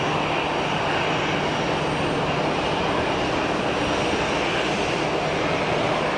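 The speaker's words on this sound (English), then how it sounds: "we've got the Pegasus Neo heading down to the gate" Pegasus Airbus Neo airliner taxiing toward the gate at Geneva Airport, a dense, constant, loud jet engine rumble and hiss that holds steady throughout.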